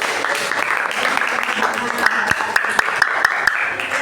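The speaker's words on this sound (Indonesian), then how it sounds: "kasih tepuk tangan dulu" Classroom applause from students in a social studies lesson, a steady patter that ends in several distinct sharp claps, with voices underneath.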